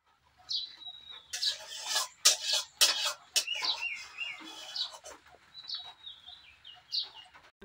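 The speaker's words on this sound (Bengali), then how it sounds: "আজকে অনেক দিন পর চড়ুই পাখি দেখলাম" A house sparrow gives repeated sharp, high chirps and short tweeting bursts, close and moderately loud, with brief gaps between calls and no speech.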